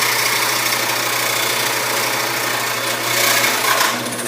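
A roughly 50-year-old drill press runs steadily at about 2,300 RPM, giving a continuous close mechanical whir with a constant low hum. It stays even throughout and rises slightly near the end.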